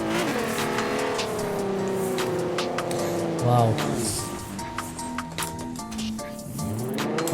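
A MK4 Golf R32 engine in Forza Horizon 4 revs hard and loud, rising through gears with falling pitch at each shift, while a person talks briefly over it.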